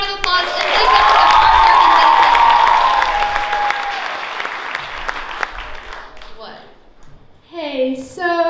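A school prom fashion show crowd gives the cosmetology class a big round of applause, loud clapping and cheering with whoops and shrill shouts that swell, then taper over several seconds as a voice starts talking near the end.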